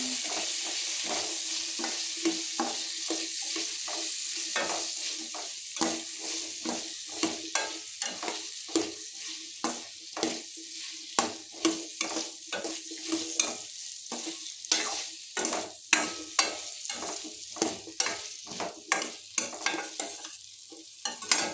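Okra sizzling and frying in a pan for a Kannada-style palya, stirred with a spatula in steady, irregular scraping strokes over a continuous close hiss of hot oil.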